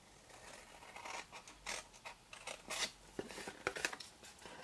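Scissors snip through Stampin' Up! floral cardstock along score lines, producing faint, close, irregular bursts of crisp cutting and paper rustle.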